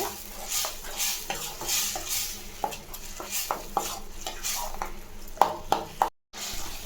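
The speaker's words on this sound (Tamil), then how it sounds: "இது ஒரு 4 நிமிஷம் அப்படியே வதக்கலாங்க" A spoon stirs and scrapes through food in a pan with repeated clinks, over a soft sizzle of frying while sautéing for tomato kuzhambu.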